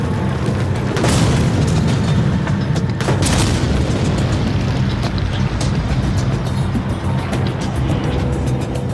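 Hand grenades bursting on a World War II front line: two heavy, loud blasts a couple of seconds apart, followed by a continuous low rumble of battle noise and scattered crackling.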